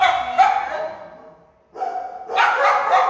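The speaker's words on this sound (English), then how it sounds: "She's a great little dog." A four-year-old, 83-pound hound retriever at an animal shelter barks loudly and close by in a few sharp bursts, with a quiet pause between them.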